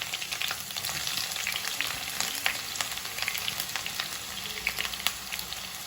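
Curry leaves drop into hot oil for a home-made chicken roast, setting off a continuous close crackle and spitting sizzle with scattered sharp pops and light stirring.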